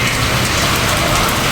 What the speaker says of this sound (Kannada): ಹಾವೇರಿ ಬಸ್ ಸ್ಟ್ಯಾಂಡು ಹೆವಿ ಮಳೆ ಬೀಳ್ತಾ ಇದೆ